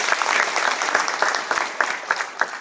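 A conference audience at an annual business gathering breaks into sustained applause, dense overlapping claps filling the room steadily from start to finish.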